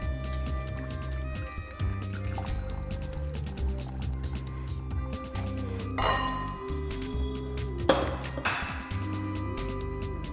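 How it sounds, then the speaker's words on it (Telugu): Water poured into a jaggery panakam drink and stirred in a vessel, with gurgling fill sounds rising in pitch in two bursts, light clinks, and a steady hum underneath. "దీంట్లో నీళ్ళు వేసి మనం కలిపేసుకుందాం."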